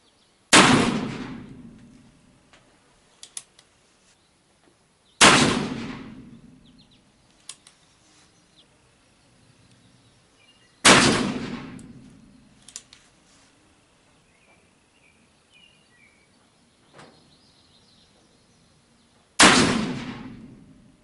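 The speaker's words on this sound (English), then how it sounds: "out of the 8 shots so far, this thing hasn't missed a beat" Pietta 1858 Remington black powder revolver firing four loud, sharp shots spaced roughly five seconds apart, each with a long decaying echo and quiet gaps between.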